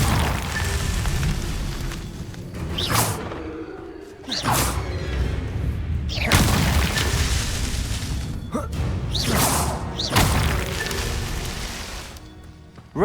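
The Incendio fire spell in Hogwarts Legacy erupts in a series of whooshing bursts and booms, about five flaring blasts spaced a couple of seconds apart over a rumbling background.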